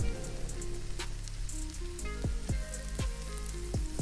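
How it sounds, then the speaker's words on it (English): Gyozas go one by one into medium-hot oil in a pan, each landing with a soft thud over a constant crackling sizzle, with several placements spaced through the moment. "Now I'll layer gyozas one by one in the pan."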